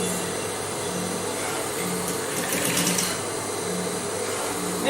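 Sewing machine stitching small pieces of boning into a corset lacing bar, a steady close mechanical whir with a soft repeating rhythm and no voices.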